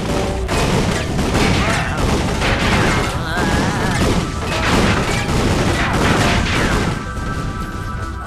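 Combustor blaster fire in Ratchet & Clank: All 4 One, a dense, loud barrage of rapid shots and crashing impacts that runs continuously throughout.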